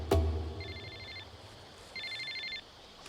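A mobile phone rings in two short, bright electronic trills separated by a pause, moderately loud over a quiet room with no voices.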